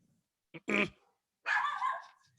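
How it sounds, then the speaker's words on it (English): A small dog barks twice nearby, a sharp yip followed by a longer, rougher bark, with quiet pauses around them. "Little Bella's barking."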